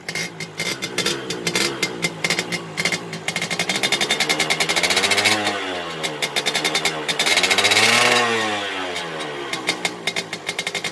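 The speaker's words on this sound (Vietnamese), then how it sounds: "Rồi, nổ máy." A red 1999 Suzuki Xipo motorcycle engine runs close by, a rapid two-stroke putter that rises twice into revving surges and drops back to idle, with no talk over it.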